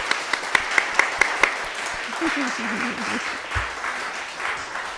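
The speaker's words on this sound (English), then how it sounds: "So can we give Elizabeth Ann a round of applause first?" A few sharp claps ring out, then a church congregation breaks into warm, steady applause, with murmuring voices underneath.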